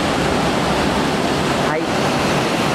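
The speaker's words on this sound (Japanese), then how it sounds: "波音がはっきりと聞こえますね" Ocean waves wash steadily below a seaside hotel balcony in Kitaibaraki, a dense, loud, continuous roar of surf close at hand.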